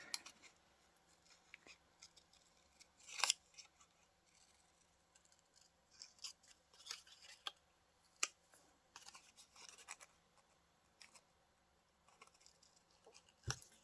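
Scissors snip paper in short, irregular bursts, with quiet rustling and handling noises between the cuts. No one speaks.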